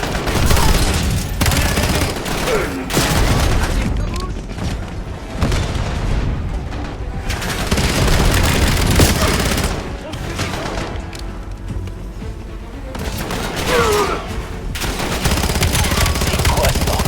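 Gunfire in the video game Black Ops 7: loud, dense bursts of rapid shots and booming blasts, broken by short lulls, fill the scene almost continuously.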